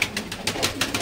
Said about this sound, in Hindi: मैंने सारे कबूतर आपको खोल के दिखाए हुए हैं आज, देख रहे हैं।